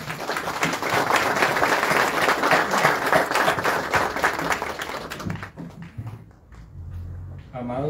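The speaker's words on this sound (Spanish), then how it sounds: "Un aplauso." A congregation breaks into loud, sustained applause at an episcopal consecration and enthronement Mass, fading out after about five seconds into quieter room sounds and some talk.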